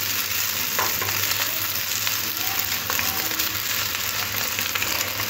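Vegetables with egg and boiled chowmein fry in a pan, giving a continuous moderate sizzle with occasional soft stirring scrapes and no speech.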